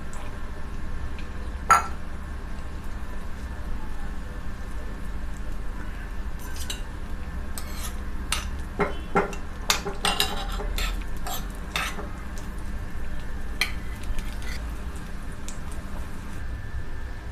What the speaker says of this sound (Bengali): কাজু ভাজা হয়ে গেছে